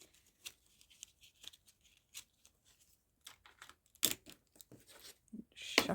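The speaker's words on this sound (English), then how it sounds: "Shuffling things around on my desk." Papers and small craft items are shuffled around on a desk, making quiet scattered rustles and taps with a few louder paper crinkles near the end, and no talking.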